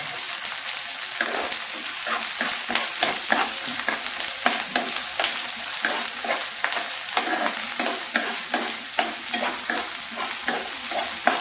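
Onion and ginger garlic paste fry in a pan for a mutton lung fry, a close, loud continuous sizzle broken by frequent scraping stirs of a spatula, with no talking.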